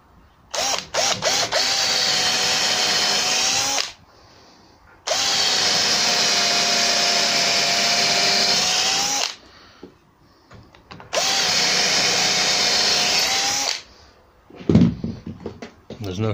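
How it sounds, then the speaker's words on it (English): Power drill boring into a plywood wardrobe carcass in three separate bursts, each a loud steady whine lasting a few seconds, with short pauses between them and clunks of handling at the start and end. "So I'll drill it like that."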